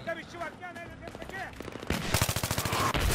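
Rapid automatic gunfire in the Battlefield 3 video game, a dense loud burst of repeated shots in the second half, preceded by softer game sounds and a voice in the background.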